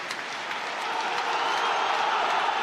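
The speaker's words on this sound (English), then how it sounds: "And Tynecastle rises as one in applause in memory of the young man" Tynecastle's football crowd applauds as one in memory of a young man, a broad, steady wash of clapping filling the stadium and swelling slightly as it continues, with no distinct voices.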